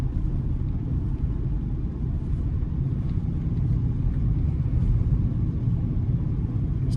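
Steady low engine rumble and road noise from inside an old Chevy S10 pickup cruising through town on the drive toward Raleigh, North Carolina, continuous and even with no talking.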